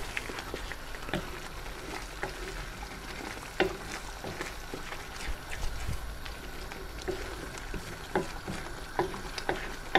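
Ladle stirring thick Dansak curry sauce in a hot pan, with repeated scraping and soft sizzling under steady kitchen noise, close and fairly quiet.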